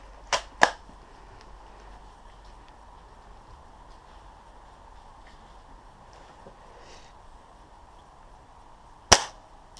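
Outdoors in woodland during an airsoft game, a few sharp, snappy shots crack out: two quick close reports near the start, then a single loud one near the end, with quiet ambience between.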